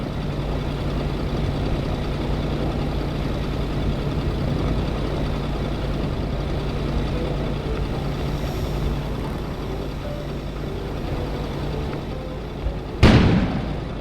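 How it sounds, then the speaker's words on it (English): In the video game Kona, a steady low ambient rumble runs for several seconds, then a single sharp explosion bursts outside near the end and quickly fades. "An explosion suddenly occurred outside."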